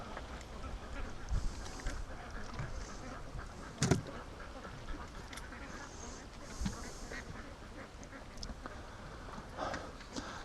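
Adult ducks in the weeds on a lake give a few scattered quacks and honks, faint and moderately distant over low outdoor background noise.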